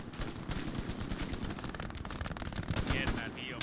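Rapid gunfire in the World War II shooter Hell Let Loose, dense bursts of automatic weapon shots rattling continuously at close to mid range, with a few louder cracks near the end.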